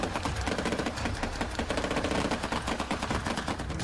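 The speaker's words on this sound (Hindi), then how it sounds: "फिनलैंड के सैनिकों को जंगलों के अंदर एम्बुश करने और मशीन गन फायरिंग की ट्रेनिंग दी जा रही है।" Finnish soldiers in forest training fire a machine gun in long, dense bursts, sharp rapid cracks following close on one another with no pauses.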